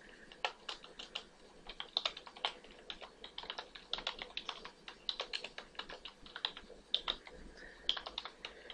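A C++ program typed on a computer keyboard: a steady stream of close, fairly soft key clicks with uneven rhythm and a few louder taps, over faint room hiss with no talking.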